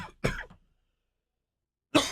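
Two sharp, close coughs sound, one at the start and another after a short silence, with no talk around them.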